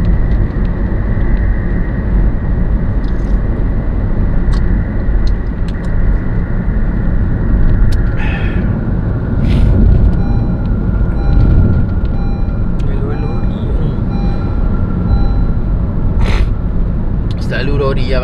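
Heavy lorries and traffic roll past steadily on a main road through a rural village area, a loud continuous engine and tyre roar with passing swells, while people talk over it nearby.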